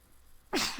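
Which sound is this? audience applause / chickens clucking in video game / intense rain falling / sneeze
sneeze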